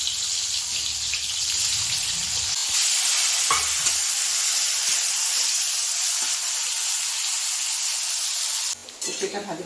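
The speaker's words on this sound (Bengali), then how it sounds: "তেলটা গরম হয়ে গেছে, উচ্ছেগুলো দিয়ে দিচ্ছি" Thick-cut bitter gourd pieces frying in hot oil, a steady, close, dense sizzle with some stirring, continuing throughout before a brief clatter at the end.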